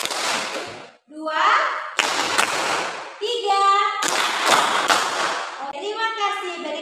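A class group claps hands on a teacher's counted cues, making three loud, dense bursts of clapping separated by her spoken counts.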